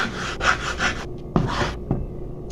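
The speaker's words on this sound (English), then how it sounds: "Every time you're moving the eggs, make sure you always scrape the little edges so everything can get in." Spatula scraping eggs with ham around the edges of a pan, a few short rasping strokes close by, separated by brief pauses, with no voices.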